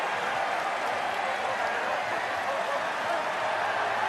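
Large jubilant crowd at a Fiji vs Scotland rugby match, a dense roar of cheering and applause that holds steady with commentary talking over it.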